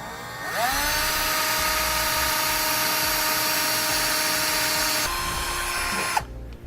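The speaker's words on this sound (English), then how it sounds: "I'm going to come back with a rather small drill bit for a pilot hole" A small drill bit bores a pilot hole for a half-inch bolt while mounting a Roadmaster rear anti-sway bar on a 2015 Ford E-Series Cutaway, a loud steady high-pitched whine that runs about five seconds, drops in pitch briefly, then cuts off.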